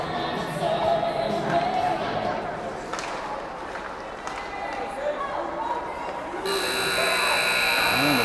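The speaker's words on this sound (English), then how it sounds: "Buzzer sounds, and we'll go to the break with the Warriors up 2-1." A loud, sustained arena buzzer sounds at the end of a period in a junior varsity game between the Warriors and DM Caps, cutting in over steady crowd noise and commentary near the end.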